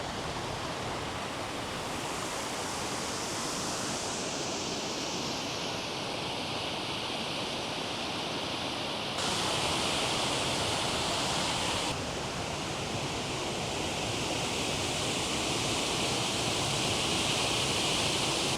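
A waterfall in the UK pours steadily as a dense, loud, continuous roar of rushing water, unbroken and without voices.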